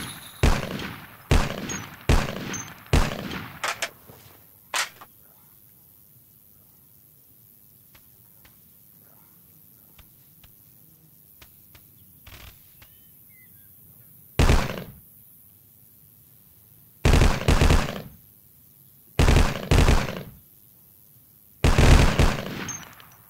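Single rifle shots ring out one after another on a Vietcong training firing range, sharp loud cracks in quick sets with quiet gaps between, then spaced pairs and short clusters later on.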